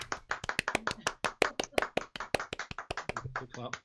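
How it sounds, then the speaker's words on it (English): A small group of people claps in uneven, scattered rhythm, sharp close hand slaps rising and falling over a few seconds, with a voice speaking faintly near the end. "They're all clapping"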